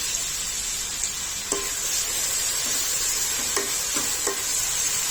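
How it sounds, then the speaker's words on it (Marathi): Onion and chopped tomato fried in hot oil over a high flame, a steady close sizzle throughout with a few brief scraping stirs of the pan, no talking. "गॅस मोठ्या आचेवरच ठेवून कांदा टॅमॅटो चांगला तेलावर परतून घ्यायचा आहे"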